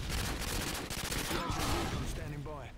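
Rapid gunfire in the 2009 video game Call of Duty: Modern Warfare 2, a dense burst of shots throughout with a voice briefly speaking near the end.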